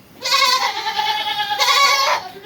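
A goat on a goat farm in Muzaffargarh, Pakistan, gives two loud, close bleats in quick succession, each a drawn-out wavering cry.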